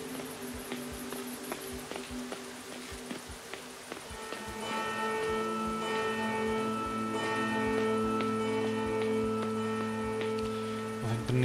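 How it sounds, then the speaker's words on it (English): A bell rings out with sustained, resonant tones that swell after a few seconds of quieter clopping and shuffling, then hold steady and fairly loud to the end. "The bell."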